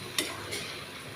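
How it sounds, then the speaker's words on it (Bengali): Malabar spinach fries in a wok with cumin seeds, dried red chilli and whole garlic cloves, a short burst of close sizzling hiss with two quick spatula scrapes. "পুঁই শাক ভেজে নিচ্ছি কড়াইয়ে, জিরা ফোড়ন দিয়ে, শুকনো লঙ্কা দিয়ে, গোটা গোটা রসুন দিয়ে"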